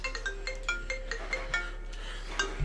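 A phone ringtone plays as a steady run of repeated bright melodic beeps at a moderate, even level, with no talking over it.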